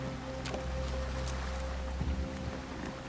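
In a video game, a steady low engine hum with water sloshing and lapping around a moving boat, continuous and close, with a slight shift in tone partway through.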